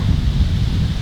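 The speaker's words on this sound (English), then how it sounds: "It's windy now." Wind blowing outdoors in Norway, a brief loud low rumble of gusting air buffeting the microphone with no other sounds.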